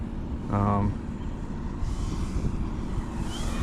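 Buzzing small propeller engine of a model plane, steady and moderately loud with a brief voice near the start.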